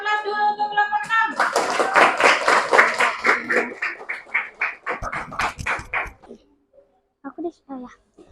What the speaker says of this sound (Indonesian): Kita beri aplaus dulu untuk kelompok 6